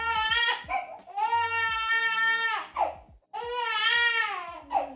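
A little girl cries in long wailing bursts, three drawn-out sobbing cries with short gasps between them, close and loud, with a few faint taps in the background.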